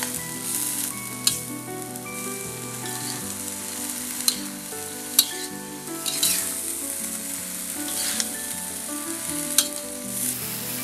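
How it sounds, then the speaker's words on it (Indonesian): Chayote, carrot and tofu sizzling and stir-frying steadily in a hot pan, with occasional clacks of a utensil stirring, no talking. "Aduk-aduk hingga tercampur rata."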